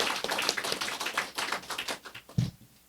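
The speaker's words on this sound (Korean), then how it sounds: "큰 박수로 감사합니다" Applause during a Sunday worship service at Galilee Mustard Tree Church, a moderately loud burst of many hands clapping for about two seconds, then thinning into a few scattered claps before fading out.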